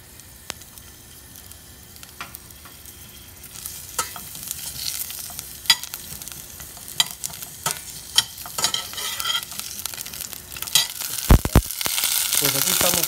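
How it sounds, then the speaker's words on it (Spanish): Garlic, onion and habanero chile fry in a pan for a mango habanero salsa, starting as a quiet sizzle and building to a louder crackling fry, with sharp spatula scrapes and clacks of stirring throughout. "Vamos a freír nuestros ajos, nuestra cebolla, nuestro chile en esta ocasión."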